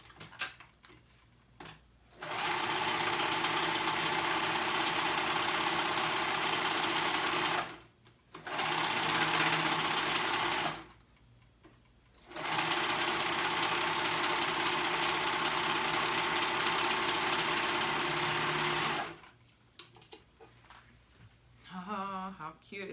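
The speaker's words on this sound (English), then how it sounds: "we're gonna go ahead and sew all the way up the side." Sewing machine stitching up the side seam of a dress: three long runs of rapid, steady mechanical whirring and ticking separated by brief pauses, close and fairly quiet, with no talking.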